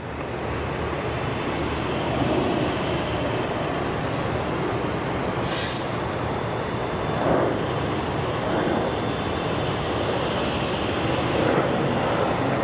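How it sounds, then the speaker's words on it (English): Boeing airliner engines spool up for the takeoff roll at an airfield, a loud sustained broadband roar heard from a distance with steady wind-like rumble and faint passing whines, no voices. "Surely we're going to hear her fire up."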